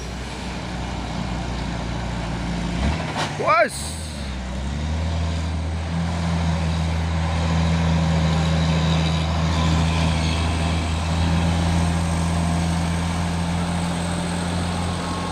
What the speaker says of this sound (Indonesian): Ini juga ada truk trailer Pertamina ini ya.